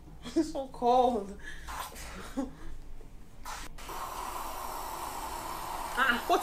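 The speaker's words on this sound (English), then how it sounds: "I'm spraying deodorant." People talk excitedly, then an aerosol can of deodorant sprays a long, continuous hiss close by that lasts a couple of seconds before voices return briefly at the end.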